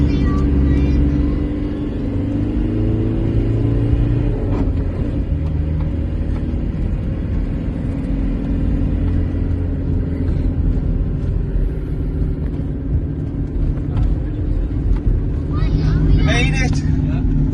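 A vehicle engine labours in second gear up a long, steep climb known as the Struggle, giving a continuous loud, deep rumble with close voices talking over it.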